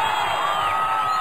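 A large television audience at the Factor X Chile final cheers and whoops for the finalists, loud and sustained throughout.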